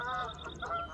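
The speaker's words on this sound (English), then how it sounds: "And some geese, Canada geese." Canada geese honk in a short burst of nasal calls, several overlapping, clear and fairly near, on a river by Sebago Lake, Maine, in early spring.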